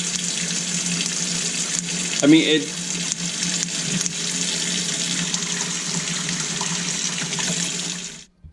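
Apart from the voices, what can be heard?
hot water running through Brondell Cypress water filter valve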